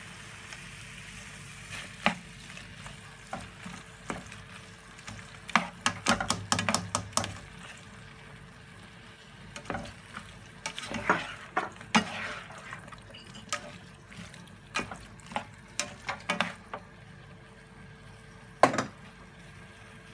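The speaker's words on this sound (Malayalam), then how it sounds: "നല്ലപോലെ ഇളക്കി കൊടുക്കുക." Chilli chicken masala with tomato purée and sauces being stirred in a frying pan: quiet, intermittent bursts of scraping and clattering from a utensil over a faint bubbling sizzle.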